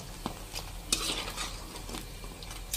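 Masala idli frying in oil in a wok, a steady soft sizzle beneath occasional clinks and scrapes of a spatula stirring, close and moderately quiet.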